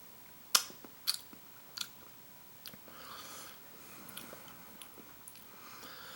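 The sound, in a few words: chewing a cheese omelet from a 1991 MRE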